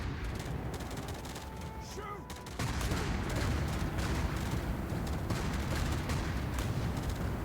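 Sustained gunfire in the video game RimWorld, a dense fusillade of overlapping shots that grows louder and more continuous after a brief lull, with a voice faintly under it.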